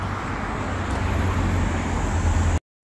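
Roadside traffic at a bus stop: a steady, moderately loud rumble of cars and buses going by, continuous for the whole stretch before it cuts off abruptly.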